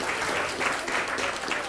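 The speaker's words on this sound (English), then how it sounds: "they deserve another round of applause because they're so great" A short burst of audience applause honours young performers at a film premiere, dense, steady clapping for under two seconds without a pause.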